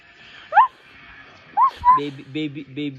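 A person imitates a dog with a couple of short yelping barks, then a series of quick, pulsing woof-like sounds, close and fairly loud.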